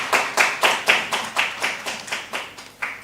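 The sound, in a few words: audience applause at a conference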